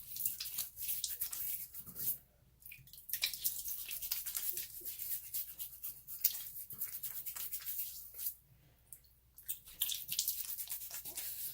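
Water splashed and patted onto a face with the hands at a sink before a straight-razor shave, soft wet slaps and drips in uneven bursts, close and quiet, with brief pauses between handfuls.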